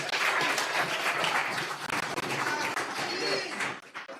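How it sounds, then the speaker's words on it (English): At a town hall meeting on hurricane recovery, the audience breaks into sustained applause, a thick roar of many hands that thins into scattered claps at the end. "Please give Mr. Mark Golding another round of applause."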